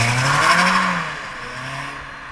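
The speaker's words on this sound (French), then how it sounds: "tu mets le contact, pied dedans et c'est parti" Renault Clio 2 RS Trophy engine revving hard under full throttle, a loud, steady close-up roar with rising and falling pitch, no voices.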